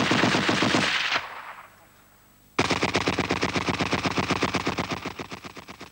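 Loud, close machine gun bursts with rapid even shots, a first burst cut by a quiet gap before a longer sustained stream of fire.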